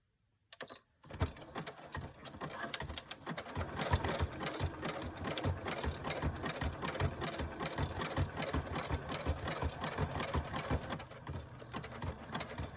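A sewing machine stitches Amazon packaging and old quilt fabric into a junk journal cover, whirring in a continuous close, rapid clatter after a brief quiet start.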